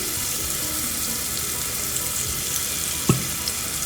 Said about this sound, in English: I'm going to add